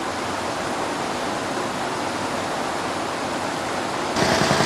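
A creek in Switzerland flows in a steady, loud broadband rush that fills the whole clip without a break, swelling slightly louder and brighter near the end, with no voices heard.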